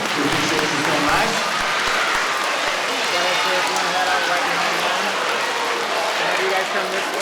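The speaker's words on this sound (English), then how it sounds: "can we give them a round of applause as they exit?" A crowd claps loudly and continuously at an elementary school Veterans Day event, a dense wash of applause with voices mixed in throughout.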